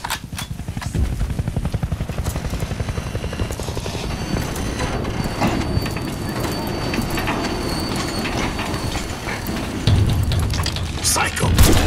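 A heavy train rumbles along in the Crysis 3 video game level Fields, a dense continuous mechanical clatter and low drone with rhythmic metallic ratcheting, loud and close, swelling toward the end.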